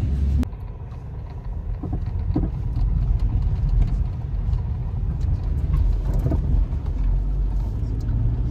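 A car travels along a scenic road toward Kolhapur, with continuous low engine and road rumble heard from inside the cabin, steady throughout.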